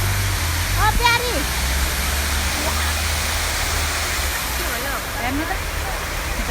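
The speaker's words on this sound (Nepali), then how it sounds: "झर्नाको पानीमा कस्तो छ" Waterfall water rushes in a constant, full roar of broadband noise, close and steady, while a voice speaks briefly over it.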